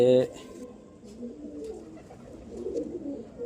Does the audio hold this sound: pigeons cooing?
yes